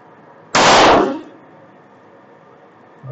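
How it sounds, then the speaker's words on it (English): A single sharp, loud shot from a SIG P365 pistol firing 124-grain 9mm +P defensive ammunition bursts close by and decays over about half a second, followed by quiet. "I'm gonna do three shots."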